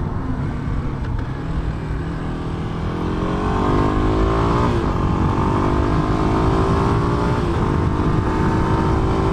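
A 2006 Kawasaki KLX250S dual-sport motorcycle ridden at speed, its engine droning steadily with a rising pitch as it accelerates, loud and continuous beneath heavy wind noise.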